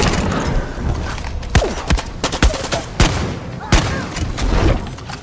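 Rapid gunfire bursts and booming shots from the Far Cry 6 video game, a run of loud sharp cracks spaced irregularly over a dense, continuous game soundscape.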